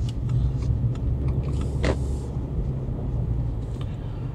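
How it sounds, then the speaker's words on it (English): A low, steady 2025 Subaru Outback engine rumble from inside the cabin, gently building as the vehicle picks up speed, with faint clicks and road noise. "And then we will accelerate again. You guys can hear it again."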